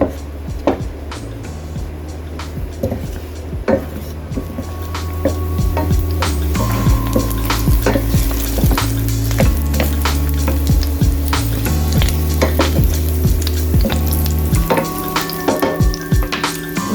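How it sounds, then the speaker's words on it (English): Garlic sautéing in a pan over medium heat for a cherry tomato and feta pasta, a loud close sizzle with clattering scrapes and knocks of a utensil against the pan, steady throughout. "You just saute the garlic until you can smell it."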